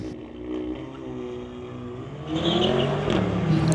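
A 2016 Audi S3 and a Mercedes launch in a street-legal drag race, engines droning steadily then rising into a louder rev as they accelerate away.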